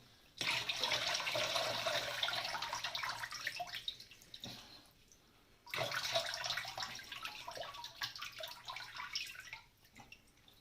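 Liquid mixed with soda pours out of a car battery in two separate streams, a trickling splash with drips, close and fairly quiet, each pour fading into a short pause.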